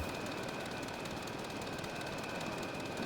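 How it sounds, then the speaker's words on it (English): Steady broadband drone of a plane engine flying in the Scrap Mechanic video game, a constant whirring roar with a thin high whine, alone with no talk. "this is one of the best planes I've flown in this yet"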